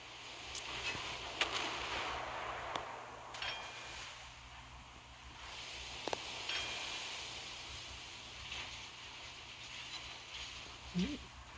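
Naval gunfire from warships in the Naval Creed video game, sharp distant cracks and booms scattered over a steady hiss of wind and sea, with a person talking over it.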